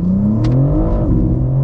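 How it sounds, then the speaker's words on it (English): A 2022 BMW M4 Competition with an xHP flash, in Sport Plus automatic mode, accelerates hard in first gear. Its engine rises loud and close in a steady climbing roar. "First gear pull. Sport Plus, automatic mode."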